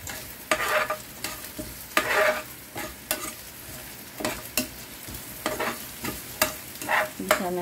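Garlic, ginger and onion sauté in a pan for chicken feet adobo, a close sizzling hiss broken by repeated scraping stirs in an irregular rhythm, with no voices.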